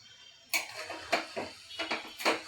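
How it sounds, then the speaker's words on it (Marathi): Spoon stirring a sugary mango murabba mixture in a pan: a few light scraping clinks and taps at an uneven pace, close and quiet, with no talk. "आता एक 5 मिनिटं याला असंच हलवायचं"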